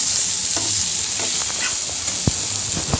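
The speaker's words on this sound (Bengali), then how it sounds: "তো এই যে শাকটা এখন দিয়ে দিব, বাদামি কালার হয়ে গিয়েছে রসুনটা তার জন্য" Browned garlic and mustard greens fry in a pan for Bangladeshi shak vaji, crackling up close as a utensil scrapes and stirs with a few sharp knocks.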